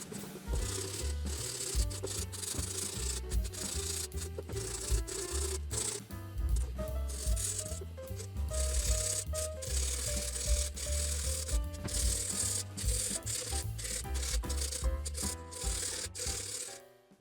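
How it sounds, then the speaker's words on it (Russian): Sandpaper rubbing over a dried filler-coated puppet head being smoothed: steady close scratchy strokes repeating in quick back-and-forth rhythm, with soft music playing underneath. "Шпаклевка высохла, начинаем шкурить наждачкой,"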